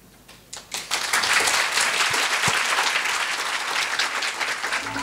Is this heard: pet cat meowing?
no